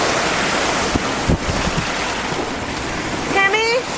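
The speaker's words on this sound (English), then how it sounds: "Big waves." Big ocean waves surge around a sailing boat, making a constant rush of water and wind buffeting the microphone, with a couple of thumps and a brief voice near the end.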